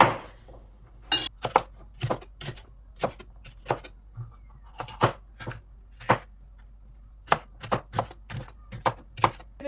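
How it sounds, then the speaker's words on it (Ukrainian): A knife chops vegetable stalks on a cutting board in sharp, irregular taps, close and clear, with short pauses between bursts of cuts and no talking. "нарізаю завжди ці палочки окремо"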